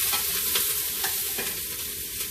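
Vegetables saute in a generous splash of oil in a pan for lentil soup, giving a bright continuous sizzle with quick rhythmic stirring scrapes close by.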